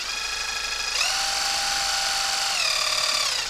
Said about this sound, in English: a Bosch 12-volt impact, quarter-inch impact tool